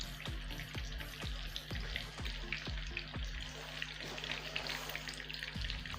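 Snacks shallow frying in oil in a pan, a steady soft sizzle with a run of low rhythmic thumps early on, fairly quiet and with no voices.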